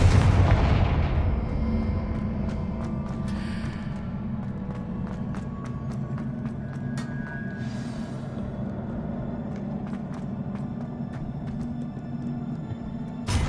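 Confringo fire spell blasts in the Hogwarts Legacy video game on PS5, a loud continuous roar of combat with a burst at the start and sharp crackling hits scattered over a dense rumbling background.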